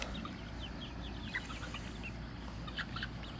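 Faint, distant chickens cluck sporadically in a noisy outdoor setting, with soft scattered calls over a steady low rumble.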